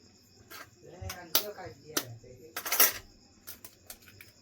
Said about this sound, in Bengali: দুটো ডিম দিয়ে দিলাম।